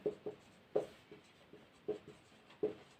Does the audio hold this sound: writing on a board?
yes